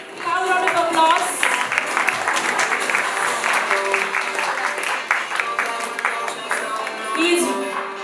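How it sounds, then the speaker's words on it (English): A crowd applauds an award winner at a corporate cricket league recognition event. Steady clapping carries on for several seconds, with voices and some musical tones mixed underneath. "Have a round of applause."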